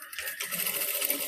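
A sewing machine stitches a ruffled blouse sleeve, giving off a steady fast whirring hum under close light clatter. It runs continuously for the whole moment, with no voices over it.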